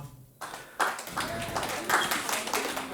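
An audience at a Ukrainian stand-up comedy show breaks into clapping after a brief quiet start, the applause swelling and continuing in an uneven patter with a little voice mixed in.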